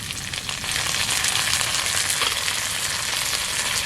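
Potatoes fry in a pan with green chili, garlic and ginger paste, giving a steady, close, hissing sizzle with faint stirring.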